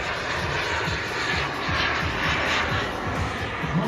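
Model jet aircraft flying at a model air show, giving a steady loud roaring whine with rumbling wind buffeting throughout, fairly close and continuous.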